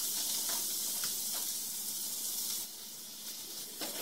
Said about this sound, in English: And it should start sizzling right away.